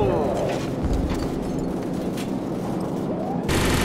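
Gunfire from an aerial gunship in Call of Duty 4: Modern Warfare, a steady stream of dense, continuous shooting and rumble that fills the whole stretch, with a louder burst near the end.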